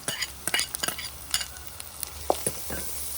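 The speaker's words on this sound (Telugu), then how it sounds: "ఇప్పుడు కలిపేసి ఇది రొయ్యి పొట్టు వేసేస్తున్నా" A spoon stirs dried shrimp in a frying pan, producing intermittent scraping clacks and soft sizzling in an irregular rhythm, close and moderately quiet, with no talking.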